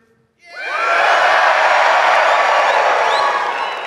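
A large audience erupts into loud, sustained cheering and whooping on cue, rising sharply after a brief silence and holding at full volume for several seconds before easing slightly.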